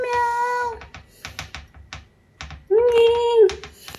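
A hiding cat meows twice, a longer call at the start and a louder, closer one near the end, with sharp clicking and tapping noises between them.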